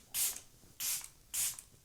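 Three short, evenly spaced bursts of Fenty makeup setting spray, hissing close to the microphone with brief quiet gaps between them.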